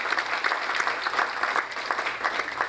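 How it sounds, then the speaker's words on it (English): An audience at an immigrant heroes award ceremony applauds steadily, a dense wash of clapping hands that holds at an even, fairly loud level throughout. "let's give them a big round of applause"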